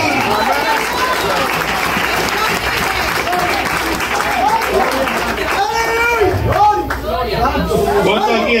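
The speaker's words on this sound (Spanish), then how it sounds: "Fuerte el aplauso a Cristo en esta hora." A church congregation breaks into sustained, loud applause during a sermon, clapping and cheering steadily for several seconds as voices mix in throughout.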